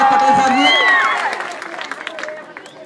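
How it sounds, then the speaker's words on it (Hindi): A crowd at a school welcome function bursts into loud applause and cheering, clapping strong at first then thinning into scattered claps as murmuring voices continue. "एक बार इनके लिए भी जोरदार तालियां"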